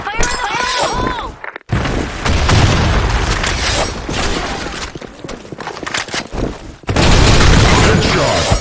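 Counter-Strike round on a sand-storm map with dense, loud game combat: heavy booms and bursts of gunfire fill most of the stretch, breaking off briefly twice, and a voice is heard over the start.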